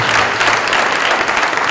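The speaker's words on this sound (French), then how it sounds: "Je veux qu'on fasse un tonnerre d'applaudissements pour la jeunesse du FPI" A large crowd at a party youth wing investiture in Côte d'Ivoire breaks into loud, dense applause, a thick continuous rattle of many hands heard close and strong throughout.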